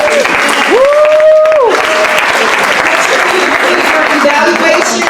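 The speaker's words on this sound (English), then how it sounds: "Let's give them a hand clap." A live audience at a Credit 101 session bursts into loud, sustained applause that fills the whole stretch, with a brief rising whistle or cheer near the start and no speech.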